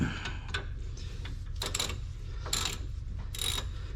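A bolt is tightened with a ratchet during a rear brake change on a GMC Acadia, giving a series of quick metallic clicks in short bursts over a low steady hum, fairly faint and close.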